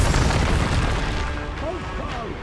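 Explosive spell blasts in the Hogwarts Legacy video game, a loud booming burst that fades into rumbling, with a voice shouting over it.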